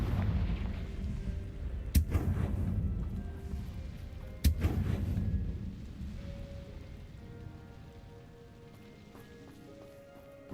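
Two sharp magical blasts from the Confringo fire spell in Hogwarts Legacy, each a crack followed by a rumbling roar, set against a steady rain-like wash that fades near the end.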